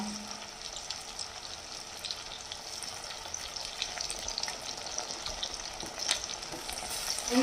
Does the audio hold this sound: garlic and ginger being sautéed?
yes